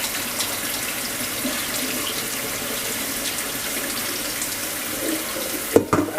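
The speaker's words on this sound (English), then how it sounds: "Another little rinse." Produce being rinsed under a running kitchen tap, a steady wash of water flowing into the sink throughout, with a brief knock near the end.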